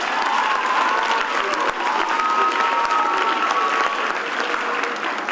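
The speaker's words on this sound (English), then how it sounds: "Give them a big round of applause." Loud, sustained applause from an audience at an event honouring the Royal Bahamas Police Force, with dense clapping filling the room steadily from start to finish.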